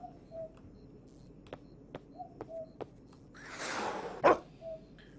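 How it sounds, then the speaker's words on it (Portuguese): In the video game Anglerfish, a mongrel dog gives a few faint, short barks, spaced apart, over a quiet background. A brief louder rush of noise and a sharp knock follow. "O cachorro mudou, virou um caramelo, vira lata."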